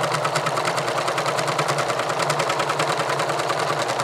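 A sewing machine runs steadily, stitching two rows of gathering stitches in fabric with polyester thread; a fast, even mechanical whir and rattle continues close and loud for the whole stretch with no talk.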